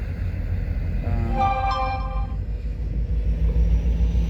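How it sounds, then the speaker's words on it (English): A train rumbles past at close range with a heavy, steady roar, and its horn sounds a brief harmonic blast in the middle, without any talk. "Oh, the train! Wow, that came along."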